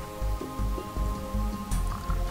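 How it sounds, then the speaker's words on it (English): Rain patters in the Roblox game Twisted, an irregular drumming of drops over a steady low rumble and faint tonal background hum. "Hazleton's getting hit by rain"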